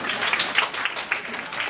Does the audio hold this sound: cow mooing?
no